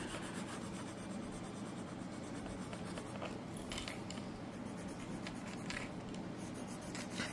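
White Prismacolor pencil drawing lines on paper to add water highlights to an Inktense painting, a steady close-up rasping scratch that never lets up and has faint strokes layered through it, with no talking.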